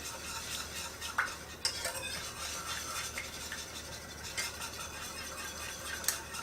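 Honey and butter stirred together in a bowl, a steady scraping and tapping of utensil against the bowl with a few sharper clinks, fairly quiet and close, with no voices.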